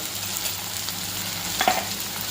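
Turmeric, red chilli powder and coriander-cumin powder are stirred into a frying pan, giving a steady low sizzle with a short scraping stir near the end and no voices.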